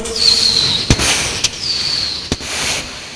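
A human voice imitates Thrissur-style fireworks: whistling rockets rise and fall between several sharp bangs, like fireworks going off close by.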